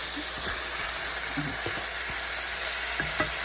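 Marinated chicken sizzles steadily on a hot grill pan, a constant close hiss of frying broken by a few faint clicks and taps.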